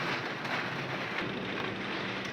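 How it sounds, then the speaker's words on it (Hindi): Heavy rain pouring outside a home in a strong wind, a dense, constant hiss and roar that fills the whole stretch without letting up, close and loud, with no voices. "बहुत ज़्यादा हवा भी चल रही है और एकदम बारिश भी बहुत तेज़ शुरू हो गई है। आपको आवाज़ भी आ रही होगी।"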